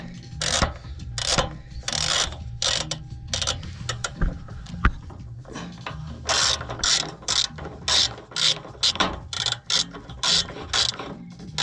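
Hand ratchet loosening a fender bolt on a Lexus RX, rapid clicking bursts in repeated short strokes with brief pauses, close and clear, no talking.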